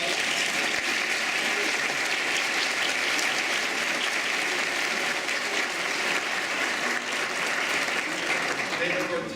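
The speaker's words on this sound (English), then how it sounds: "deserve a very large round of applause" A congregation at an interfaith Thanksgiving gratitude service gives sustained applause to the OneJax director and staff, a thick, continuous roar of clapping lasting around nine seconds at steady loudness, with some voices mixed in.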